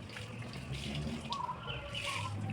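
Water rushes steadily through a pipe as the upper inlet stop valve on a 4-inch PVC water filter is opened, a continuous close hiss and gurgle with no talk.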